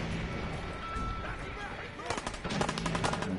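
Rapid bursts of gunfire crackle in quick succession, growing denser toward the end, set against a continuous noisy background.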